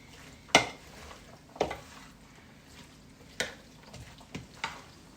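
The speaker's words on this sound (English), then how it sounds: "So just stir all of those lovely colours together." A spoon stirs a smoky chipotle mayonnaise sauce in a bowl, giving a handful of sharp clinks and scrapes spaced irregularly against a quiet background.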